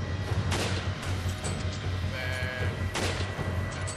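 A single gunshot from an enemy in the video game Resident Evil 5, a sharp loud crack standing out over steady game background noise and music, with no talk at that moment.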